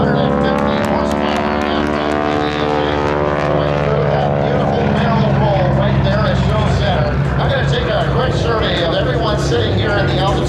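A 450-horsepower wing-walking biplane rolls through a barrel roll at an air show, its propeller engine droning loud and steady with a shifting pitch, while an announcer talks over it throughout.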